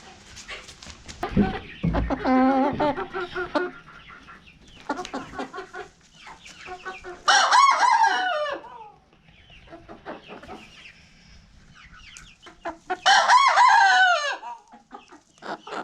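Chickens cluck nearby, and a rooster crows loudly twice, with scattered hen calls in between.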